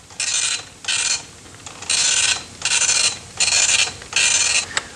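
An early-1980s microcomputer printer runs off a script loaded from floppy disk, giving six rhythmic bursts of rasping, whirring print-head passes with short quieter gaps, close and loud, with no talk.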